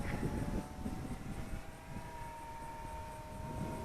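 A small Eachine Mini P47 Razorback 500mm RC model plane drones steadily overhead, its electric motor giving a continuous buzzing whine over wind rumble, fairly loud and unbroken.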